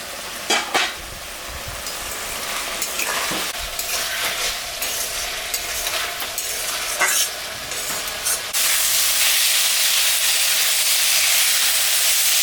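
Bengali tengra fish curry cooking in a pan with whole spices, a steady close frying sizzle and hiss with intermittent stirring scrapes, then a smoother louder steady hiss in the final few seconds; no talking.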